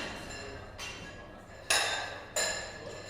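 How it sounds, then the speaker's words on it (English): Metal weights clanking as people lift in a gym, a few sharp separate clanks spaced apart over a faint background hum, with no talking. "That's the sound of people lifting weights"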